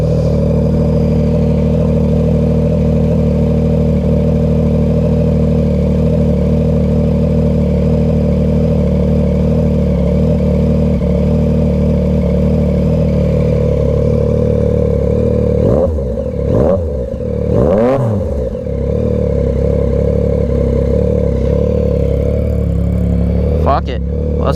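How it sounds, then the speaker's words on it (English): A 2022 Yamaha MT-09 motorcycle with a Dominator GP3 exhaust idles loud and close with a steady, throbbing rumble. Brief blips and passing noises come near the end. "Let it idle a little, burn some of them off."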